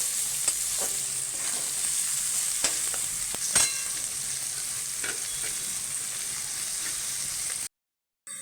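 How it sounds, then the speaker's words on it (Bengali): Onions fry in a pan with a continuous bright sizzle close by, broken by scattered scrapes and knocks as they are stirred, then a brief silence at the very end. "এবার পেঁয়াজটাকে আমি একটু নাড়বো।"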